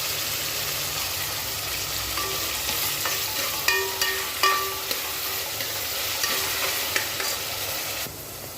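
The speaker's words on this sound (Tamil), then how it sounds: "வெங்காயம் நல்லா பொன்னிறமாக வதங்கிட்டுருக்கு." Onions sauté until golden for a seeraga samba mutton biryani, making a steady loud sizzle broken by repeated spoon clinks and scrapes against the pan, with no voices.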